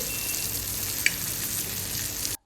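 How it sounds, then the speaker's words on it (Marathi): Halwa fish frying in a pan for a Malvani fish fry, giving a steady, dense, crisp sizzle that holds even throughout and then cuts off abruptly, with no voices. "ही मच्छी आपली झालेली आहे बघा मस्त अशी खरपूस घालून झाली"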